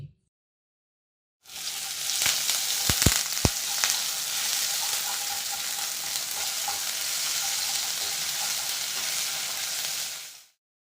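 Cumin, curry leaves and green chilli-ginger-garlic paste hit hot oil for batata poha. A loud sizzle bursts in abruptly, a few sharp clinks of stirring sound early on, and it holds steady before cutting off.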